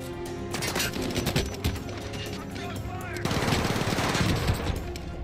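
Rapid automatic gunfire in Call of Duty Warzone, dense bursts of machine-gun fire with scattered shots and a louder stretch of fire in the second half, continuous throughout.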